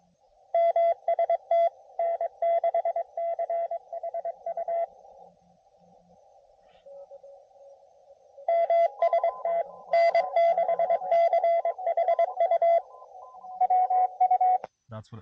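Morse code CW from a low-power QRP amateur radio station during a portable park activation, heard as crisp, steady sidetone beeps in rhythmic bursts of dots and dashes, with short pauses between groups and faint static underneath.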